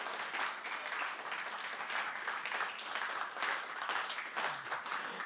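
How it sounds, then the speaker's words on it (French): An audience at a children's comedy show claps hard, a busy continuous patter of many hands, fairly close and steady with slight swells, with no talk over it. "est-ce qu'on peut applaudir encore très fort pour Roger Mio? On tape les mains très fort"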